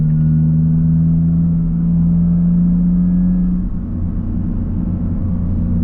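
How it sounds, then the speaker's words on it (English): A Toyota GR Corolla with a new aftermarket exhaust drones at low RPM, a steady loud low hum heard from inside the cabin, with a slight dip in tone midway and no talking. "It definitely has a good amount of drone at like the lower RPMs"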